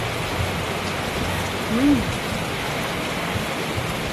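Steady rain falling on a wet morning, a dense, even hiss of drops close by that runs without pause, with a brief faint voice in the middle.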